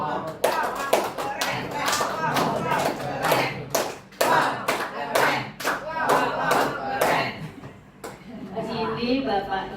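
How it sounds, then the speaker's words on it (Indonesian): A group claps out a rhythmic 'tepuk keren' cheer in sharp bursts of loud hand claps, with voices chanting and talking over the claps throughout. "Tepuk keren untuk Bu Rati"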